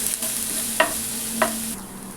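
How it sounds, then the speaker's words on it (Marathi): Ground spice paste (vatan) for Mumbai vada pav fries in a pan with a loud, continuous sizzle, broken by two short spatula scrapes and stirs. "आता याच्यामध्ये आपण केलेलं वाटण जे आहे ना ते आता टाकून घ्यायचं आणि हे व्यवस्थित फ्राय करायचे"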